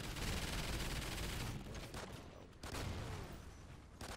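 Automated sentry guns fire nonstop in the co-op shooter Call of Duty: Ghosts Extinction, a dense roar of rapid gunfire filling the whole stretch, dipping briefly before surging again.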